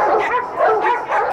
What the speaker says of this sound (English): I've got 5 dogs.